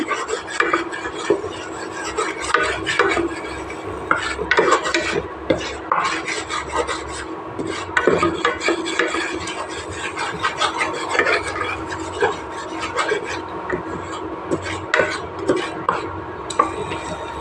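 Gram flour (besan) is roasted over medium heat in a pan, stirred nonstop with a scraping, rasping spoon that rubs and grinds against the metal in quick, uneven strokes, close and fairly loud throughout.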